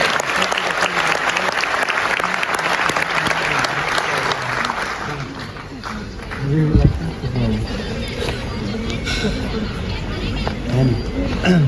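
Loud applause from an audience at a success day event in Delhi fills the first few seconds, then fades into crowd chatter and voices with scattered claps.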